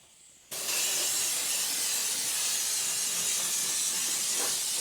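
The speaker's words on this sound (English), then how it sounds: "Just when we're putting it under pressure with the air compressor, it tends to vaporise a bit." Light degreaser is sprayed under air-compressor pressure on a 1HZ 80 series Landcruiser during a service: a loud, close, steady hiss begins abruptly after half a second and holds unbroken to the end, with no speech.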